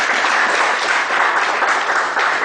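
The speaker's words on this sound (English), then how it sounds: "A big round of applause, ladies and gentlemen." An audience gives a big round of applause at a spiritual talk, steady dense clapping filling the hall without a break.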